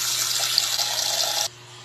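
Water running from a tap into a pot until it is half full, a steady loud hiss and splash that stops sharply near the end.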